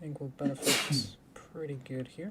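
A single sharp sneeze bursts out in the middle of a man's speech, loud and close, with talking before and after.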